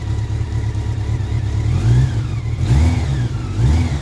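A 1984 Honda CB650SC Nighthawk engine runs close by, throttle blipped in a few short revs rising over a rough idle rumble, loud and alone without talk.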